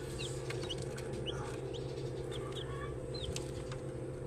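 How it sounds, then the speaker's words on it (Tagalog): Newly hatched gamefowl chicks peep in high, brief chirps scattered across the clip, heard over a steady loud low hum from a hatchery machine, with no talking. "May mga bagong pisang sisiw ako ngayon Ito yung mga sisiw ng panabong"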